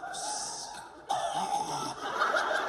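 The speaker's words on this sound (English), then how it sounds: "that's a cough. That was a cough." A person coughs loudly and chuckles, with a short burst then a longer spluttering stretch of coughing and laughter close by.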